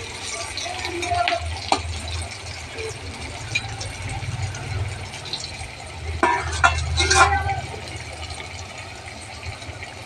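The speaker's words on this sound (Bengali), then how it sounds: "এই তেলেই আমার আলুটাও ভাজা হয়ে যাবে" Potatoes frying in hot oil while being stirred with a utensil, a low sizzle under uneven scraping and clattering strokes that swell and fade, with no talk.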